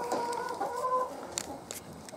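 A hen in a backyard chicken coop gives a few soft clucks and a drawn-out murmuring call, faint over low background noise, with no talk.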